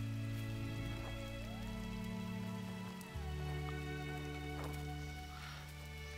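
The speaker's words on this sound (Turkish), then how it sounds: "yağmur gibi galiba, değil mi?" Rain in the side-scrolling video game GRIS, a steady soft patter running throughout over sustained ambient music tones, with no talking.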